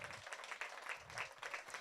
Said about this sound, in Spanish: le das un aplauso fuerte al Señor